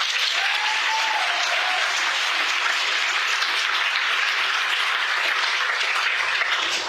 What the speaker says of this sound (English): I'll have another round of applause for them.